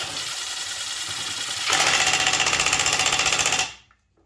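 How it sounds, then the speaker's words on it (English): A power impact tool tightening a 9/16 bolt on a chipper shredder that had sat outdoors for two years: a steady whir jumps into a loud, rapid hammering rattle for about two seconds, then stops abruptly. "Tighten this up. I'm going to keep the torque down on this."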